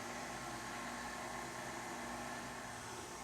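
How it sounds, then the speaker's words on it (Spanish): An electric mixer on its lowest speed beats butter cookie dough, giving a steady, even motor whir with no pauses, fairly quiet and close. "Aquí sí voy a batir a velocidad 1."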